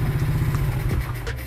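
A modified Honda mini bike engine idling after a restart, a steady low rumbling putter, close by and continuous with no talk.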